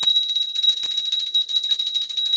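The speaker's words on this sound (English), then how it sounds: "And when we honor Oshun, we honor her while ringing a bell." A brass bell rings with a bright, sustained high tone that shimmers continuously at close range, loud and alone, used in a daily devotion honoring Oshun.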